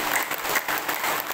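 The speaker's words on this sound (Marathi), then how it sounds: "मोकळा सोडून जोरात टाळीचा प्रयोग करायचा असतो" Vigorous hand clapping from a group doing a yoga exercise, a brief burst of dense, even claps close to the microphone.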